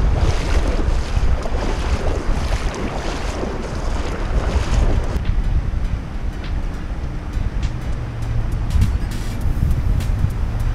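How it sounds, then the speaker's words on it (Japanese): Fast-flowing river water rushes steadily and loudly close by, a dense continuous roar mixed with wind buffeting the microphone, at a riverside fishing spot for black sea bream and sea bass. "この水の流れめっちゃ速いだこれ"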